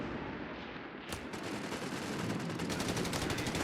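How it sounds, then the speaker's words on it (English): Machine-gun fire in Company of Heroes 3, a dense, continuous battlefield clatter that swells into rapid, steady bursts partway through, close and loud throughout. "MG's now setting up, firing again."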